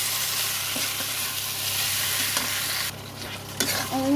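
Turmeric and chili powder are sautéed in a pan for an aloo paneer curry, a constant close sizzle carrying repeated scraping taps of a spoon stirring, which quiet briefly before resuming.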